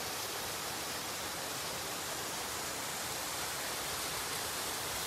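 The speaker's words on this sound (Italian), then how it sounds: "Vienen aquí fontanas con los dos delfinos." Steady rushing water from a fountain with two dolphin sculptures in the gardens of Villa d'Este at Tivoli, a continuous broadband splash filling the whole clip at an even level, no voices.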